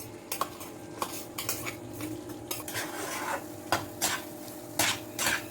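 Soya mince is stirred in a metal cooking pan, with a spoon or spatula repeatedly scraping and clinking against the pan in irregular bursts over a faint low hum, close by, with no voices.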